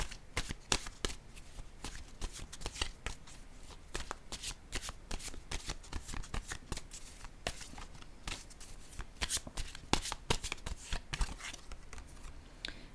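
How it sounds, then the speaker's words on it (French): A deck of cards is shuffled steadily and continuously at close range, with rapid riffling clicks throughout and no talk. "Je vais piger une carte maintenant, un message de l'univers."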